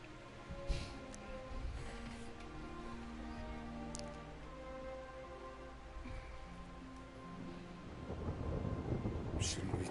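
Thunderstorm with rain in the video game Kingdom Come Deliverance: steady rain hiss with low rumbling thunder throughout, swelling into a louder, closer roll near the end, with no talking.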